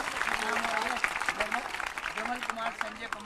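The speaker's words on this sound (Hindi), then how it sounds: "जरा दोनों हाथ ऊपर उठा करके तालियां तो बजाओ इनके भावनाओं" An audience claps together at a Jain religious discourse with a monk, a steady, dense wash of applause lasting the whole stretch, with a voice carrying faintly beneath it.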